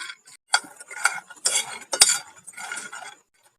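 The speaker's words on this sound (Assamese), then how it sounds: "গেছৰ জুই একদম কম কৰি দি মই এইখিনি ভাজি ল'ম।" Peanuts dry-roasting in a pan over a low gas flame, stirred in short bursts that make scraping and light rattling sounds, with brief sharp clinks and quiet gaps between strokes, close up and with no voices.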